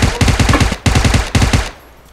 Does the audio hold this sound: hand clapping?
no